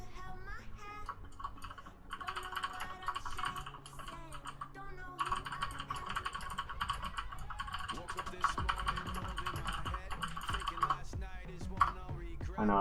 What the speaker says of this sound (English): I know, I love my mechanical keyboard.